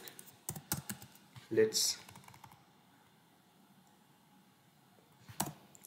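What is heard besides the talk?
typing code on a computer keyboard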